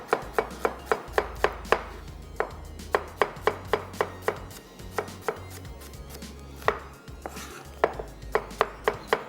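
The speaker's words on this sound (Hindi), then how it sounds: "यहाँ पे प्याज को करेंगे स्लाइस" A knife slicing onions on a cutting board in a kitchen, with a quick steady rhythm of crisp chops in short runs and brief pauses, close and clear, with a low hum underneath and no talk.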